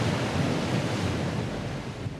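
High waves crash and surge on the open North Sea beside an offshore vessel, a loud continuous roar of surf mixed with heavy wind buffeting the microphone, no voices.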